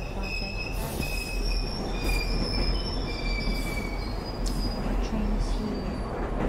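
Train wheels squeal on the rails in The Ghost Train video game, a shrill, wavering whine over a constant loud rumble throughout.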